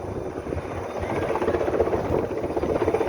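A helicopter flies over a wildfire near Mukho Port in Gangwon Province in strong wind, its rotor making a loud, continuous throbbing chop with a steady pulsing rhythm.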